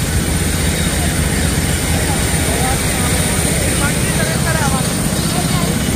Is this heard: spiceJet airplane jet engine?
yes